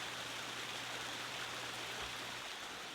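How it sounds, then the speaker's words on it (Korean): A small mountain valley stream flows in a steady, soft, continuous rush of water, faint and even, with no other sounds over it. "계곡 흐르잖아요. 조그만."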